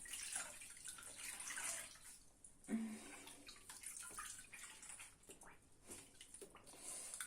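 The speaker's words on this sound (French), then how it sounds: "je vais juste les rincer comme ça" Small crocheted pieces rinsed by hand in water, with steady splashing and running-water wash throughout, brief drips and squishes of soaked yarn close by.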